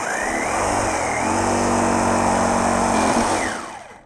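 A jigsaw cuts out the inside of a steel tool rest for a Craftsman bench grinder, running as a continuous loud buzzing whine that shifts in pitch and then winds down at the end.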